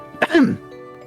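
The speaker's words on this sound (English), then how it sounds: "stops herself mid-sentence with a cough" A single short cough, close and clear, followed by a brief throaty rasp, then quiet.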